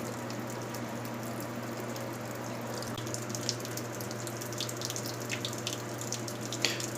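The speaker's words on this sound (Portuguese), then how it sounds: "Ela iniciou a entrada de água" An Electrolux Blue Touch Ultra Clean 15 kg washing machine fills with water in a steady rushing hiss over a low hum, with faint splashes and drips, continuous and moderately loud, with no voices.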